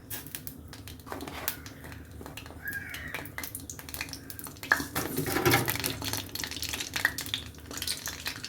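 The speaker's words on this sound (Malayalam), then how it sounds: "വെളിച്ചെണ്ണ ഒഴിച്ചതിന് ശേഷം ഒരല്പം കടുക് ഇട്ട് കൊടുക്കാം." Mustard seeds splutter in hot coconut oil in a pan, sparse crackles and pops at first that grow busier and louder as the seeds heat.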